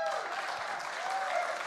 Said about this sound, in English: A mighty round of applause, please, for this phenomenal band